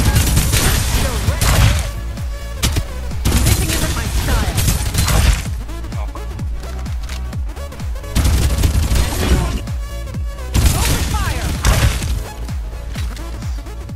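Gunfire in an open fight in the video game Farlight 84, with loud, dense bursts of rapid shots and impacts coming in waves, broken by short lulls, close and intense throughout.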